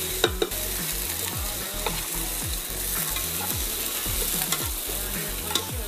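Octopus and a fish head going into a pot for Livorno-style cacciucco seafood soup, with a steady loud sizzle and a regular series of knocking, scraping strokes from stirring.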